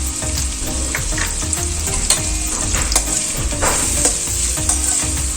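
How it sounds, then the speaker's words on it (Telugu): Egg curry with turmeric and salt is stirred in a hot pan, giving a loud, steady sizzle with rhythmic scraping strokes throughout and no speech. "ఇవన్నీ కలిసేట్టుగా బాగా మిక్స్ చేసుకోవాలి."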